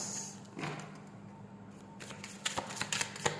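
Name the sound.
tarot cards being shuffled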